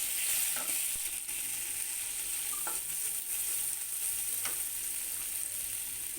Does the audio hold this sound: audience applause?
no